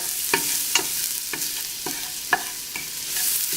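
Salted ingredients for a Thai clam bake get stirred together in a pot over a hissing sizzle, with a few evenly spaced scraping knocks of the utensil, close and fairly loud, no voices.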